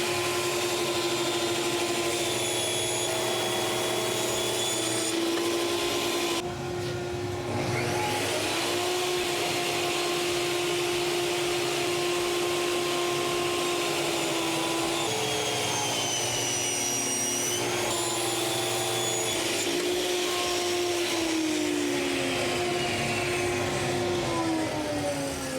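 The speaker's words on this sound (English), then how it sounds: "Forgot to turn the vacuum on" A vacuum motor runs steadily and loudly throughout with a constant whine, briefly dipping and shifting pitch partway through, with no talking.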